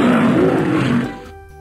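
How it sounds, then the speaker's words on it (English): A lion lets out one loud, deep roar close by, holding strong for about a second before tapering off into a quieter rumble, with no voices. "Lion."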